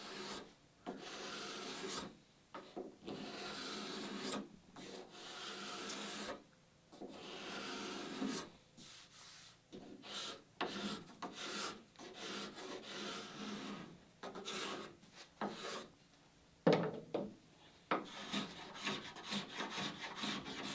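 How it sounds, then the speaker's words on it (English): A sharpened painter's scraper rasps along the wooden sheer of a Catalina Wherry boat build, giving repeated short, fairly loud scraping strokes with brief pauses between passes, close up and with no talking. "Be surprised how much you can get done with just a painter's scraper."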